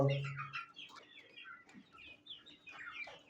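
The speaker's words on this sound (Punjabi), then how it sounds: "ਦੇਸੀ ਮੁਰਗਾ" Desi chickens and a rooster peck about in winter sunshine, giving a string of soft, close clucks and short chirpy calls, fairly quiet and unhurried with no talk.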